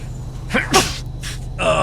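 A single close sneeze with a sharp intake of breath just before it, from a player during a night session of a trucking simulator, set over a low steady engine hum.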